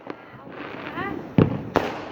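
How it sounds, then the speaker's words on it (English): Fireworks go off on bonfire night with a few sharp bangs and crackles, one loud close burst followed by another, while people talk over the background noise. "That was a firework setting off."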